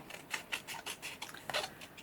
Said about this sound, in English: get my scissors in that.